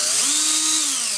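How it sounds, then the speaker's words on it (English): An electric drill whines at steady speed, spinning a telegraph sounder's iron core and coil unit threaded onto a stud. The loud, even motor tone runs alone without talk. "the entire unit is threaded on to a stud that I put in the drill"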